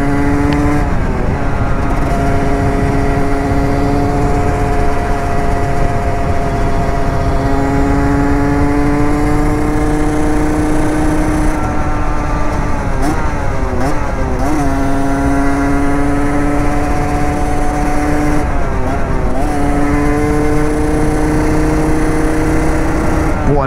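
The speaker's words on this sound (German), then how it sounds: "Boah, dreht der Motor hoch" A derestricted Rieju MRT 50 two-stroke moped engine revs hard and loud close up, its pitch climbing and dropping through repeated gear shifts while a rider talks over it.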